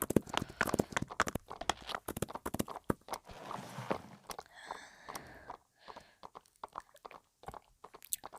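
Horse hooves clip-clop in the Roblox game Wild Horse Island, with dense irregular clattering hits, some crunchy and chewing-like, loud and close, with no talk.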